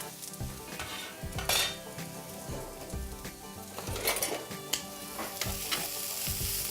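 Mushrooms, shallots and garlic frying in a pan: a steady, dense sizzle with spatula stirring and scraping, punctuated by occasional metallic clinks, close and continuous throughout.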